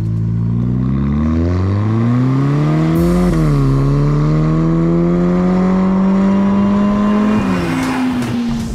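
A 2021 Ferrari Portofino M pulls away, its engine revving up through rising gear pulls with a brief shift dip, loud and close, then holding a steady strong drone.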